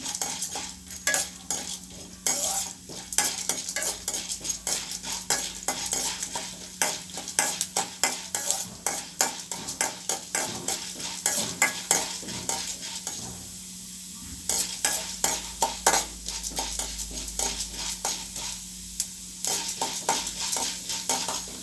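Urad dal frying in hot oil in a pan with coriander, stirred steadily so the spoon scrapes and clinks against the metal over a constant close sizzle, with no talking.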